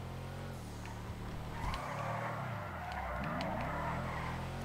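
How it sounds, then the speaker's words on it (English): A car power-sliding at a drift meet, tires skidding and squealing over a steady, fairly close engine drone that rises and falls through the slide. "See, that looks pretty decent for a power slide right there."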